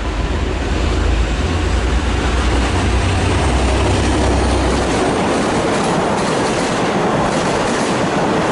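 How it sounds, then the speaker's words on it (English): A V/Line passenger train hauled by locomotive N458 with N-set carriages and PH454 passes through South Geelong station without stopping, a loud continuous roar with rumbling low end and clickety-clack of wheels on the rails, close by and alone. "Train approaching does not stop at South Geelong."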